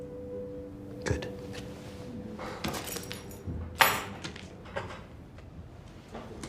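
Keys jangle and clink in a quiet room during a scene from The Last of Us, with several light metallic rattles and a brighter jingle scattered over a low background hum.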